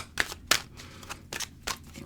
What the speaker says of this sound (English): We'll give it a quick shuffle here.